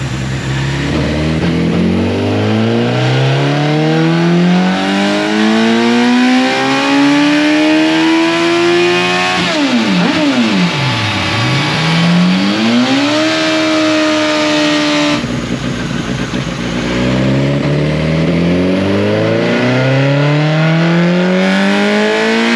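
A 2005 Suzuki Hayabusa with a stock header and moderate street build revs hard and continuously, climbing in pitch, dropping back and surging again, loud and close with no talk.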